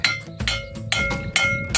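A hammer strikes repeatedly to drive a wooden hoe handle tight into its metal blade, about six sharp, ringing blows, close and fairly loud, with no talk.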